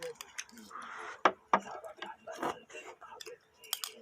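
Someone eats homemade tteokbokki up close, with quiet wet chewing and soft mouth sounds in short bursts and faint whispery breaths between bites.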